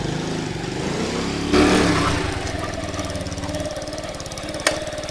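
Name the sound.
Honda CT70 clone motorcycle 125cc engine running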